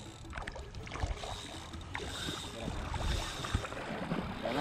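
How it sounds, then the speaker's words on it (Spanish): River flowing beside a fishing boat during lure fishing for snook, a faint continuous rush of water with small splashes and boat knocks scattered through it. "Escuchen ese río, cómo está"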